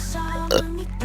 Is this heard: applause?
no